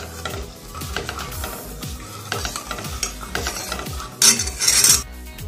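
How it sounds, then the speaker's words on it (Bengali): A spoon scrapes and clinks rhythmically against a metal kadai as sugar is stirred into a cup of water to dissolve, steady close-up strokes with a brighter clatter near the end. "চিনি একটু নেড়ে চেড়ে গুলে নেব।"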